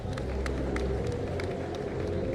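A crowd at a beetleweight combat robot tournament gives a round of applause for the team behind Icebreaker, with crisp, scattered claps over a low crowd murmur.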